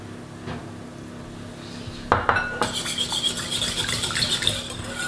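Zucchini cake batter with milk and olive oil being stirred in a bowl: a steady scraping and clinking of a utensil against the dish, becoming busier and louder after a brief sharp knock.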